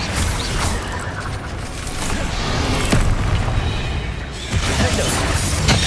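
Confringo fire spell blasting in Hogwarts Legacy combat, a loud dense roar of explosive crackle and rumble with sharp impact bursts rising out of the continuous battle noise.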